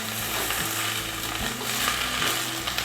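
Drumstick (moringa) leaves being stirred in a hot pan, a short close sizzle with soft scraping turns and low rhythmic thumps, no talking.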